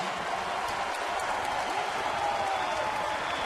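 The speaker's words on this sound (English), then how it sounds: "Crowd's going crazy." Crowd noise fills a college basketball arena during a Bucknell versus Wake Forest game, a dense, steady wash of cheering and applause heard from within the stands.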